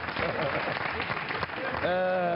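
A studio audience on a Portuguese TV talk show applauds a guest in a brief burst of clapping, with a voice talking over it toward the end.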